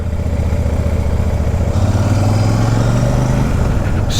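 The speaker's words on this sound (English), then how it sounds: "Scooters, I've got to call them scooters, people keep correcting me in the comments." A scooter engine drones loud and close while riding along a road in Thailand, a constant buzzing hum with a slight shift in tone partway through and rushing wind throughout, no talking.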